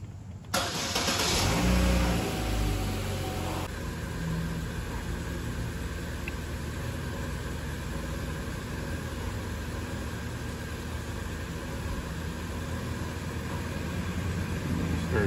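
A Chevy Cruze engine cranks and catches, flares briefly, then settles into a steady, even idle, close and continuous with no talk over it.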